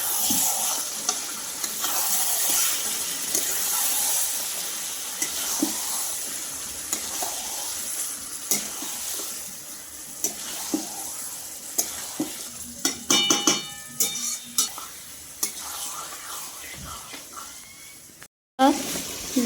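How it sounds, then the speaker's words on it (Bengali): Mutton pieces fry in oil with spices, salt and turmeric while being stirred, making a close continuous sizzle with scraping spoon strokes and sharper clatters near the end; a voice is faintly heard in places. "মশলাটা ভাজা হয়ে গেছে, এখন এই যে মাটনটা দেওয়া হচ্ছে।"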